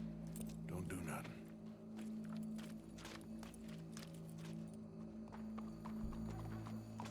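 Horse hooves clip-clop at a steady walking pace in Red Dead Redemption 2, heard over a low hum while characters converse throughout.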